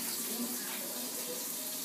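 Water runs from a kitchen tap into a cup in a steady, bright splashing stream, close and continuous with no talking.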